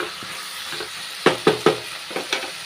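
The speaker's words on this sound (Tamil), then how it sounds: "சுரக்காய் வந்து நல்லா வதக்கிக்கிறணுங்க" Bottle gourd sautés in a pan for chutney, with a soft sizzle under several sharp stirring scrapes and clinks close by.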